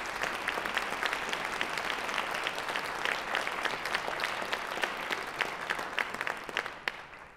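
An audience at a concert for a violin concerto premiere claps warmly to welcome a violin soloist, a dense steady applause that holds for several seconds before thinning out at the end.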